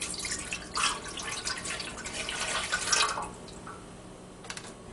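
Milk poured into a bread machine pan over a sink, a soft, close liquid splash and trickle lasting about three seconds before fading to quiet.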